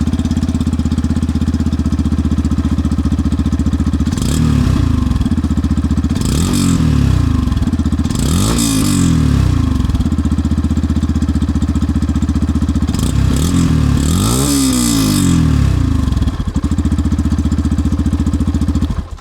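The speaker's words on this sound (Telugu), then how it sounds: "ఈ బైక్లో ఎగ్జాస్ట్ నోట్ ఎలా ఉంటుందో ఒకసారి చూద్దాం మనం." Yamaha FZS Hybrid 2026 motorcycle with silent-start technology, its engine idling loud and close with a steady low drone, broken by several sharp throttle blips that rise and fall in quick succession.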